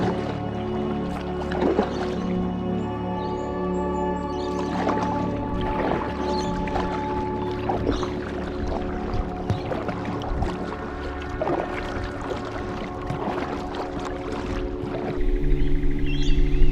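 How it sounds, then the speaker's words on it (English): Kayak paddled across a dam, with soft watery splashes and drips from paddle strokes and gentle hull knocks repeating close by in an otherwise calm outdoor setting. "So we're just kayaking now up to this pool that I know holds big fish."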